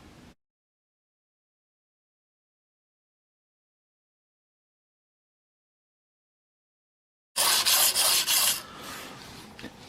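Single bevel broadhead blade rubbed on a 400 grit sharpening plate, heard as a short burst of loud, close, rasping strokes near the end after a long silence, fading into a softer scrape.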